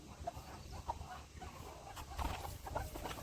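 Broody hens of about one kilogram cluck softly and sporadically, faint and somewhat distant against a quiet farmyard background.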